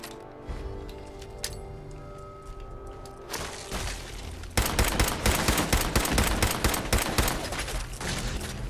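Gunfire aimed at Mirelurks in Fallout 4: a few scattered shots and a lingering tone at first, then sustained rapid automatic fire that turns into a loud, dense fusillade for the second half.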